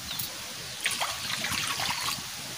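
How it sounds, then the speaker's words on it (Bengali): Hot water poured into rice flour and coconut for kulipitha dough gives a steady close trickle and splash that runs through the whole short stretch with no talking. "আমি একটু গরম জল নিয়ে নিচ্ছি"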